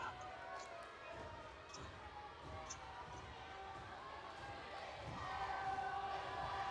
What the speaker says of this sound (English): you can hear the crowd and feel the bleachers